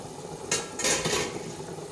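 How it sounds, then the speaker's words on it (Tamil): Seeraga samba rice pours into a pot of boiling water for mutton biryani, making two short, close bursts of rattling, hissing splash over a low simmer. "இப்போ வந்து தண்ணி கொதிக்கிறதுனால இப்போ வந்து அரிசி சேர்த்துக்கலாம்."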